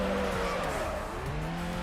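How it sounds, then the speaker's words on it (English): Mazda RX-7 FD rotary engine in Need For Speed Underground: a steady, buzzing engine drone holds throughout, with squealing tires layered over it and pitch shifting slightly as the car is driven hard. "Oh, I love the sound of my rotary engines."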